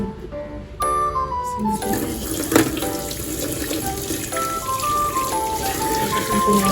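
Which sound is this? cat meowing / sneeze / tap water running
tap water running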